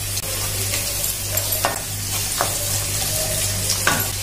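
Two medium onions with curry leaves sautéing in a pan with ginger and garlic for chicken fry, giving a steady loud sizzle broken by a few sharp stirring scrapes, near and alone.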